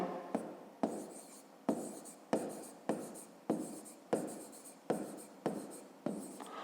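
Pen strokes writing in a notebook during a fifth-grade maths exercise, a steady rhythm of about ten short scratching strokes separated by brief pauses, close and fairly quiet with no talk.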